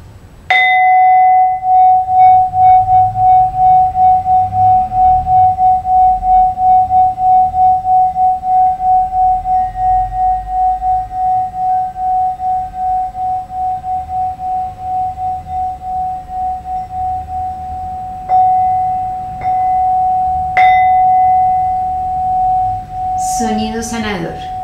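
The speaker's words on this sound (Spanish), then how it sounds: "toco mi cuenco tibetano" A struck Tibetan singing bowl sounds during a yoga session, its steady metallic tone ringing loud and slowly wavering as it decays over many seconds, followed by a few lighter strikes and brief clinks near the end.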